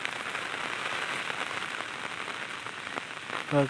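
Heavy monsoon rain pours steadily in the Konkan countryside, a dense continuous hiss at close range, with a brief voice surfacing at the very end.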